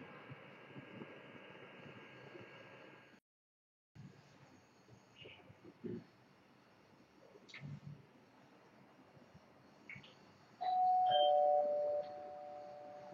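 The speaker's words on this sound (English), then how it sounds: "I have a doorbell" A doorbell rings indoors with a clear two-tone chime, heard once near the end over a quiet background of faint hiss and scattered small noises.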